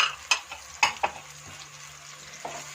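Spices being stirred into coconut chicken curry in a pan, with a few sharp scraping clinks of a spoon over a soft, steady sizzle and a low background hum, no talking.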